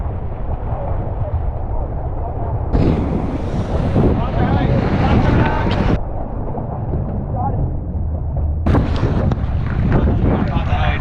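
Sailboat racing on open water heard from aboard, with heavy wind buffeting the microphone in loud gusts over a constant rush of water and surf, with no talk.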